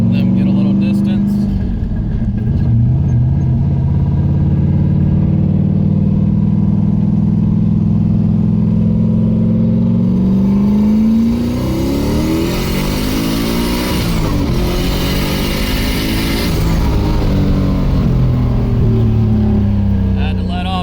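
A Mazda Miata with a reworked fuel system accelerates hard through the gears, its engine climbing in loud rising sweeps, dropping at a shift, then climbing again, heard close from inside the car.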